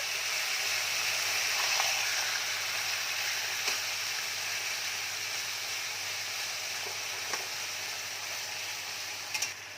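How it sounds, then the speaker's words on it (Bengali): Boiled, drained colocasia greens fried in a wok, a continuous close sizzle with a few soft stirring clinks and scrapes, no one talking. "এবার কচুর শাকটা নাড়াচাড়া করা হচ্ছে।"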